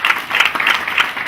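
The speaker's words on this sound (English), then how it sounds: "Let's clap for the media" A brief burst of audience clapping for the media at a county sanitation strategy launch, close and fairly loud, with a dense, even patter of many hands.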